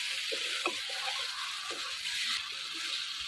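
Goat mutton sizzles steadily in a pan, a bright, constant frying hiss with soft scrapes and stirring knocks now and then, close and moderately loud.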